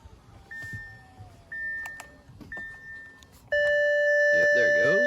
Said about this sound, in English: It's gonna make some weird beeps.